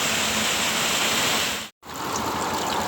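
Steady, full rushing of the Trufanets waterfall in Zakarpattia, Ukraine, loud and continuous, with a brief dropout partway through before the roar resumes.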